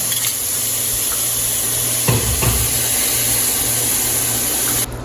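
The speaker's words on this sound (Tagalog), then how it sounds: "Magigisa tayo ng ating karne." Meat sautéing in a pan for a Filipino rainy-day dish, a steady broadband frying hiss held throughout with a couple of brief clattering stirs of the utensil near the middle.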